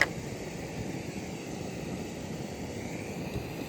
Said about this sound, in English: now we need to restart the jet boil